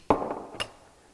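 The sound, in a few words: hammer whacking a coilover locking ring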